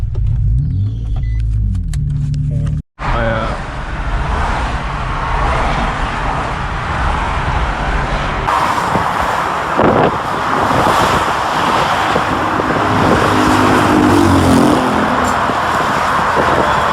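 Turbocharged Nissan G35 engine cranking and struggling to start, then a loud, continuous rumbling run with wind buffeting at the microphone, after a brief cutout near the start.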